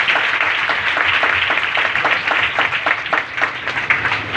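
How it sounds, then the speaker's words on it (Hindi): A church congregation applauds loudly for a young child named Rachel, with many hands clapping close and continuously and the rhythm loosening toward the end. "फिर रेचल के लिए एक बार जोरदार ताली।"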